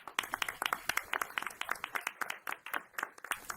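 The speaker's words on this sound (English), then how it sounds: "And let's give her a round of applause." Audience at a school board meeting applauding a pre-K teacher called forward for recognition, a moderate room of steady, uneven hand claps lasting a few seconds without talk.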